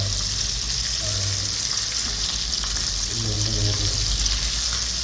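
Fish fries in a pan with a loud, continuous sizzle, steady throughout with faint scraping and stirring underneath.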